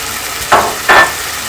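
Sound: stirring shrimp and crab frying in a pan

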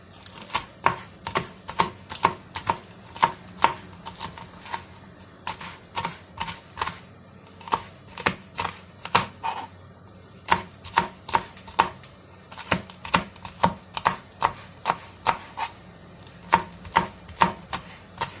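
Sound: chopping a hot pepper for okra stew

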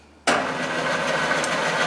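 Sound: machine spindle starting up with edge finder

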